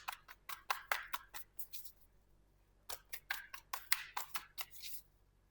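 Tarot cards are shuffled by hand in two quick bursts of crisp, rapid flicks and snaps, close and fairly quiet, separated by a short pause.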